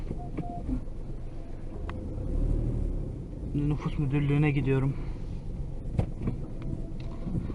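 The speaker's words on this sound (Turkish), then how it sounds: "ehliyetsiz son araba sürüşüm." Car driven on the road with a steady low rumble of engine and tyres throughout, while someone talks over it from inside the cabin.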